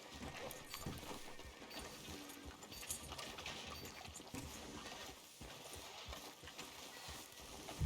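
Steady clip-clop of horse hooves on a hard surface in Red Dead Redemption 2, a continuous rhythmic trot with faint clinks, no voices.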